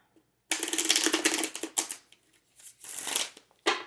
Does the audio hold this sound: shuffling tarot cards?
yes